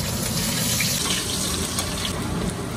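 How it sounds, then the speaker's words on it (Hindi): Garlic frying in hot oil in a pan for a dhaba-style aloo gobi masala, giving a loud, constant close sizzle and hiss with no talk. "तो पहले गार्लिक को फ्राई कर लेते हैं।"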